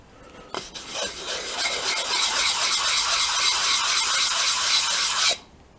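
Hand sanding the top of a timber mini lathe base with sandpaper: a steady, close, loud rasping scrub that starts abruptly, runs continuously for about five seconds, then stops.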